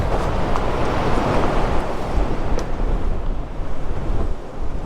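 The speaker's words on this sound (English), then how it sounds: "the wind is really whipping" Strong winter wind roars at a campsite, a loud, steady rush with gusty buffeting against the microphone and no other sounds.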